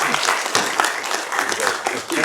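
Audience applause at a Korean policy debate on the climate and environmental crisis and carbon neutrality, honoring Seosan city council members: dense, steady clapping from a seated crowd, loud and continuous throughout.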